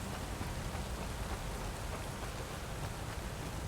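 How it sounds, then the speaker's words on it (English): Steady, dense rainfall hisses in a continuous, unbroken wash of drops, faint and even throughout, with no voices. "So I can hear the rain."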